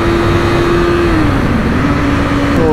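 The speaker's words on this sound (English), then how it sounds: "Three different kind of bikes in a drag race." Three different motorcycles, among them a Suzuki V-Strom, accelerate side by side in a drag race. One loud, close engine note holds steady, then dips and climbs again through a gear change over a few seconds, with no talking.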